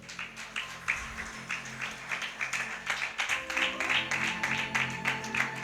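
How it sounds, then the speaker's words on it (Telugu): Loud, sustained clapping from a church congregation at a Sunday service in Visakhapatnam, the claps dense and steady throughout, with a low organ-like musical drone underneath and some faint voices mixed in. "అందరు గట్టిగా చప్పట్లు కొడదాం."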